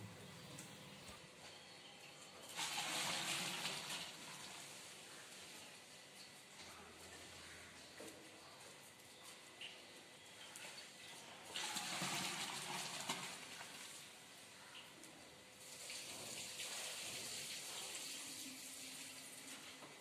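Around 35 litres of boiled water poured into a large pot of beef biryani, three long gushing pours separated by quieter stretches, fairly faint against a low background hum.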